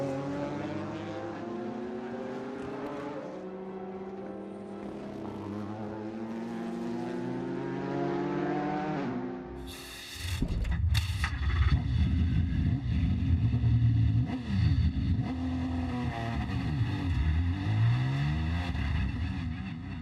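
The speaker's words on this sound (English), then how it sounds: "As I accelerate away from the pit box, I just want to get into a rhythm." A Ford GT race car accelerates away from the pit box at Le Mans. Its engine note climbs through rising sweeps, then bursts into a loud, close, harsh roar that holds for the second half.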